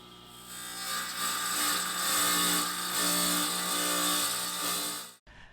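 A power tool cuts stone tile for a fireplace mantel, a loud sustained grinding whine that swells and eases over several seconds and then stops abruptly. No voices are heard.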